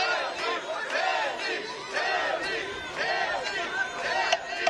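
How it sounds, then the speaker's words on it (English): Crowd at a professional boxing event on the beach shouting and cheering for a fighter, with loud continuous yelling, surging voices and chatter filling the whole stretch. "You hear the shouts coming from the crowd for Denny."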